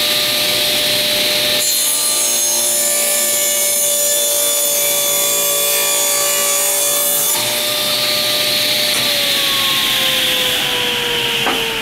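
A chop saw rips a roughly 1.5 inch strip off a wood board, a loud sustained whining cut lasting several seconds before the blade spins down, close and with no talk.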